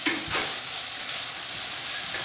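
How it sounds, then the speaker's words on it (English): Carne asada sizzling in a hot pan as it is stirred, a loud, steady frying hiss with a brief scrape of the utensil at the start. "And then we'll give this a little stir."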